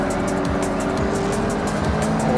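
Lamborghini Revuelto race car in Forza Horizon, its engine roaring steadily and loud throughout with tire squeal from hard cornering, no talk over it.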